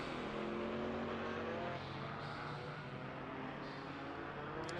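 A race car in the ACC racing game is thrown sideways, its engine droning steadily at moderate, faint level with tyre and wind noise and no talking.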